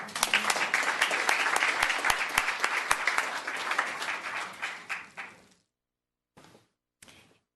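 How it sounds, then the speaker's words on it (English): An audience at a town council meeting gives a round of applause, thick and lively at first, then thinning and fading out, with a couple of brief scattered claps after a short silence. "another round of applause"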